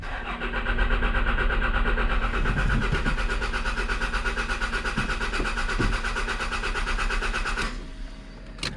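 A 1991 Toyota Celica GT engine cranks steadily with a fast whirring starter rhythm, close and loud, trying but failing to catch, before the cranking cuts off near the end.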